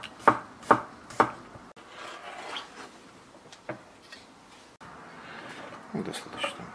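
A knife slices garlic cloves on a board in a kitchen, three sharp distinct cuts at the start followed by softer scattered chopping, close up with quiet background.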